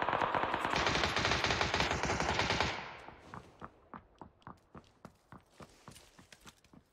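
Sustained automatic AK rifle fire in the video game PUBG, loud and dense for about three seconds, then a quicker run of distinct, evenly spaced single shots that fade slightly toward the end.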